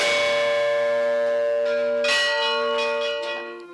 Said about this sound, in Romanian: Tot în ziua de Paște, la Redeni, oricine își dorește poate merge la biserică să bată clopotele.